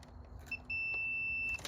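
Multimeter continuity test on a Jeep transmission fuse, a single high, thin steady beep lasting about a second, quiet, with brief clicks just before and after.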